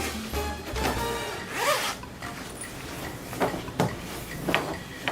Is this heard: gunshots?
no